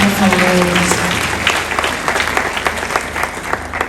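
Audience applause at a live worship concert, a dense steady wash of many hands clapping, loud and sustained with a brief tonal voice at the start.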